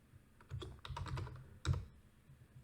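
Java code being typed on a computer keyboard, a short run of quick, close key clicks in two bursts with a brief pause between, clear and quiet.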